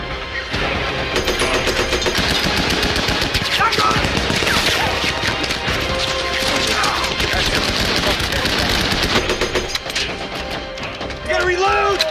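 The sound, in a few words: gunfire in the film Fury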